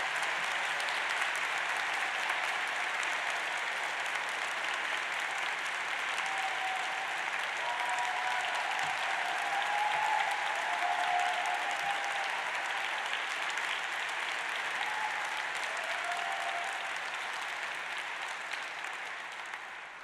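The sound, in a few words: audience applause at a degree ceremony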